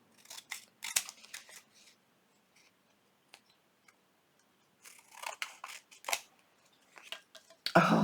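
Scissors trimming paper for a junk journal: crisp close snips in short bursts separated by near silence, with a louder rustle of paper at the end.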